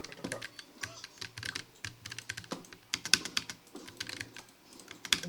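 Brisk typing on a Keychron K1 V4 low-profile mechanical keyboard fitted with brown switches, giving a steady stream of close, crisp key clicks with no talking.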